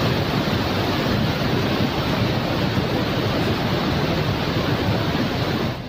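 Rushing floodwater after a cloudburst in Dharali, Uttarkashi, a loud, dense, continuous roar of churning water that stays steady for the whole stretch, with no voices.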